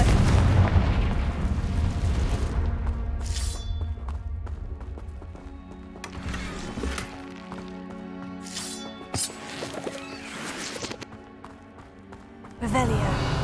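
Confringo fire spell in Hogwarts Legacy: booming blasts and crackling bursts roll over a busy game soundscape of footsteps and clatter, with voices speaking throughout.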